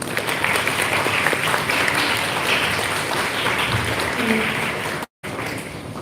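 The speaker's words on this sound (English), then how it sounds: "with that round of applause, I request everyone to welcome all our dynamic speakers for the day" A school audience at a live TED-style event gives a sustained round of applause to welcome the day's speakers, dense clapping from many people with faint crowd murmur, broken by a brief dropout near the end.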